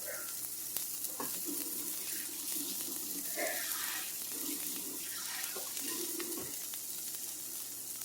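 Turkey burger patties fry in a pan with a steady, close hiss of sizzling fat, joined by soft bursts of spattering and a brief knock partway through, with no voices.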